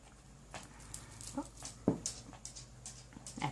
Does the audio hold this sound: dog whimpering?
yes